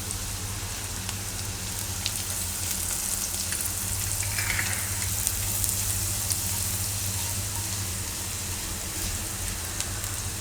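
Asafoetida (hing) drops into hot oil in a home kitchen, giving a steady, close, crackling sizzle that holds evenly throughout with no voices.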